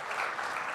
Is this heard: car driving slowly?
no